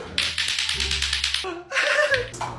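Rapid plastic clacking from a lato-lato clacker toy, a quick run of sharp knocks, a pause, then more clacks with background sounds.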